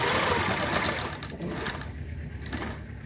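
Domestic sewing machine stitching a lined kameez, a steady close whirring run that slows and fades slightly toward the end, with no talk.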